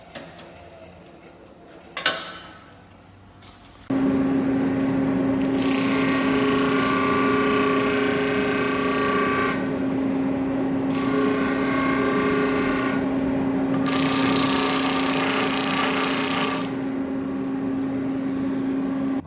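A power tool blade cuts through bolts during assembly of a Scrambler, a loud sustained whine broken into several long passes with brief pauses between them, after a sharp knock near the start.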